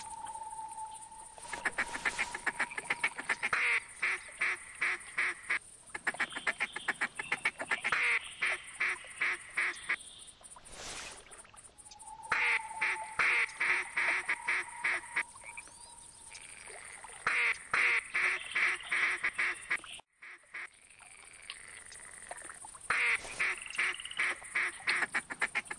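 Mallard ducks in TheHunter hunting game give repeated quacking calls in rapid series, pausing between bursts, fairly loud and close with little else around them.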